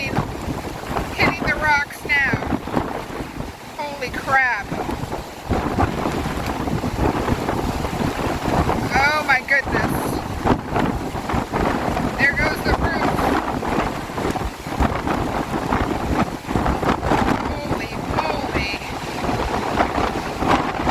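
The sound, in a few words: strong storm wind and sea waves sweeping away coastal house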